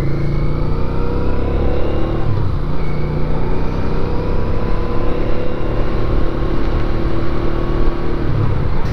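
A 1983 Honda Ascot motorcycle engine, warmed up, idles and runs steadily with a loud, continuous close-up drone and slight unevenness from a carburetor fault, outdoors in cold weather.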